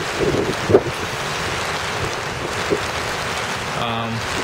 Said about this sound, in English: We're getting some pretty nice gusty winds now.